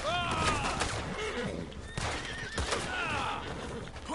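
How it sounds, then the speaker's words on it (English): Horses in Red Dead Online neigh and whinny in several shrill calls over clip-clopping hooves and scattered gunfire, with a busy game soundscape and some talk underneath. "don't you dare run me over with your horse"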